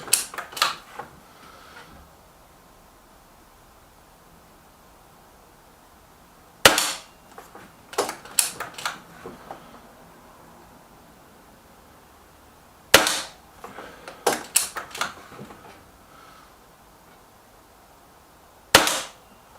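BSA Ultra TS air rifle fired at targets, sharp close cracks in separated bursts, each shot followed by quick clicks of cocking and loading, with quiet pauses between groups of shots.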